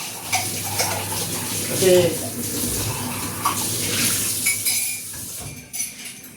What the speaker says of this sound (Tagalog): Hugasan ko muna itong ano, yung tasa ko.